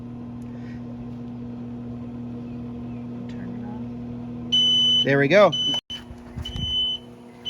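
A car jump starter gives a steady high beep and some warbling tones over a constant engine-like hum, with someone speaking briefly nearby.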